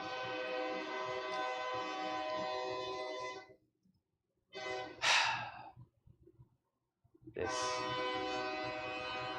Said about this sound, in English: Take your train somewhere else, buddy.